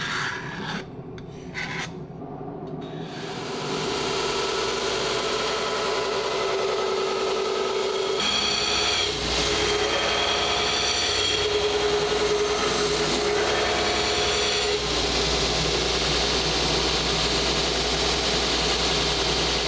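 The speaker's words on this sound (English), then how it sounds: "That way I can kind of know that I'm staying centered as I grind." A forged steel chopper blade is ground on a power grinder, producing a continuous loud, close rasping roar that runs unbroken for about twenty seconds, with shifts in pitch and texture as the pressure and contact on the blade change.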